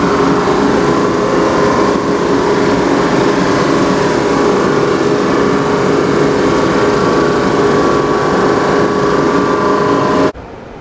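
A wood planer runs glued-up scrap wood for cutting boards, a loud steady roaring whine held close for about ten seconds before cutting off abruptly.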